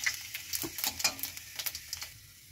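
A spoonful of panch phoron spices dropped into hot oil in a wok, a quiet crackling sizzle with quick popping ticks that fade over a couple of seconds.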